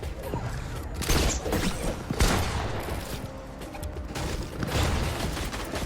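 Rapid-fire SMG bursts in Fortnite crackle as dense, fast volleys, with a few louder cracks standing out over a constant busy din.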